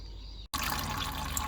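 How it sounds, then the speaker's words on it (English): Coolant draining from a Suzuki GSXR 1000 motorcycle, a brief pause, then a sudden loud, steady splashing flow of liquid heard close up, no talk. "So I'm going to drain the coolant."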